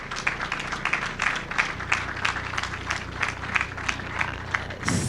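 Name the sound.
audience applause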